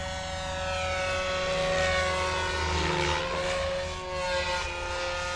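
Steady, loud rotor-and-motor whine from a Goblin 500 RC helicopter flying, with a brief dip and swell in pitch partway through and no voices.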